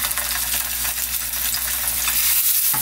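Yellow croaker frying in hot oil in a pan on low heat: a steady, close, loud sizzle with crackling spatters throughout, no talk.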